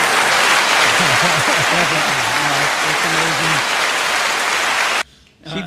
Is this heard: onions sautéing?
no